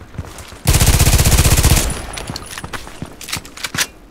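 A rapid burst of automatic gunfire from the Contract Wars video game, loud close rattling shots for about a second, followed by scattered quieter single shots and game clatter.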